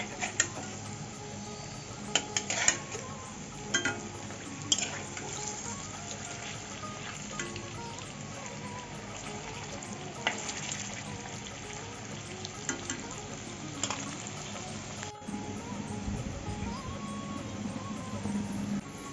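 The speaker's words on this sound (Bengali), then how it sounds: "এক পিট ভাজা হয়ে গেছে আর এক পিট উল্টে দিচ্ছি" Jackfruit koftas fry in a pan and are turned over partway, giving a steady crackling sizzle with occasional sharp clicks and scrapes from the flipping.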